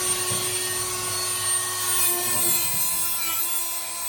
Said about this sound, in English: we have a little die grinder that we're going to get in there and clean the rust off